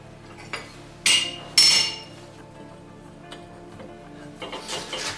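Sharp metallic hammer blows on a chisel against metal while making exhaust baffles, three distinct strikes with a ringing clink, the last two loudest, followed by quieter tapping and shuffling.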